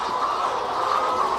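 Laying hens in a coop clucking softly and continuously, a dense, steady layer of fowl murmuring close by without any distinct crowing or talk.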